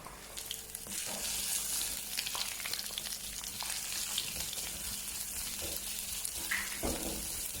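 Crushed garlic and ginger fry in a pan with a steady, dense sizzle that holds throughout, broken by a few louder crackles and spits; no one talks.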